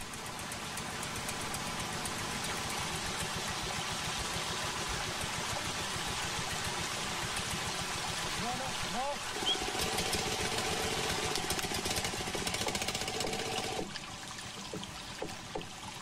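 Pumps at a Borneo alluvial diamond mine pushing gravelly earth and water onto large screens, a steady engine drone mixed with gushing, pouring water, continuous and fairly close, shifting slightly partway through.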